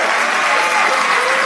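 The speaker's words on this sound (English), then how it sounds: "give her a round of applause for her" Dense, steady applause from a studio audience as a volunteer is called up on stage at a live TV mentalism show, filling the whole moment without a break.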